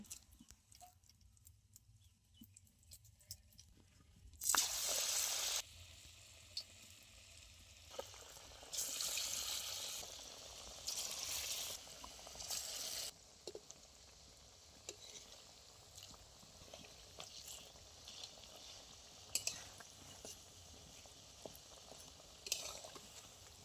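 Drumstick flower fritters dropped into well-heated white oil, sizzling in loud hissing bursts that swell and fade over a steady low crackle, with no talking.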